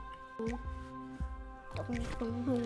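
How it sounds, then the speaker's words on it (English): Hellmann's mayonnaise is squished into a bowl, giving a few short, soft wet squelches over a quiet humming kitchen background. "3 tablespoons of Hellmans mayonnaise. No carbs in this. Squish. Dump it in."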